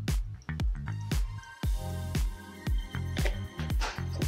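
Milk poured into a blender for a green smoothie gives a close, wet glugging with repeated bubbly drips and squishy bursts, steady and fairly loud throughout.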